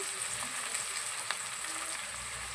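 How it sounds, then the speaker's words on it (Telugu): Onions and banda puvvu (stone flower) frying in hot oil for a country-chicken curry, a steady close broadband sizzle with small crackles throughout and no voices. "ఆయిల్ వేడైన తర్వాత బండ పువ్వు బిర్యానీకైతే వేసేయాలి నెక్స్ట్ ఆనియన్స్ కూడా వేసేయాలి మొత్తం మొత్తం వేసేసి బాగా కలపాలి"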